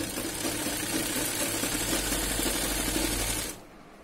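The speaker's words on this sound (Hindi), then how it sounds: "यहाँ से हम स्टिचिंग कर लेंगे उल्टी साइड से।" A sewing machine stitches a kurti from the reverse side with a steady, fast mechanical whir and rapid needle chatter, running continuously and close before stopping near the end, with no talking.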